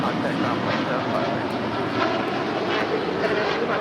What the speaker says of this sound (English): This is United Airlines 2375 departing to Washington Dulles on a 787-9 Dreamliner